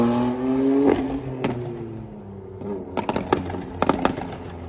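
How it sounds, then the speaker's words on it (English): A BMW M4 (F82) with VRSF catless downpipes and mid pipes on the stock muffler, revving with a falling engine drone and several sharp crackling pops and bangs from the exhaust, close and loud, no talk. "this is a pretty simple and quick way to really waken up the exhaust note on these cars"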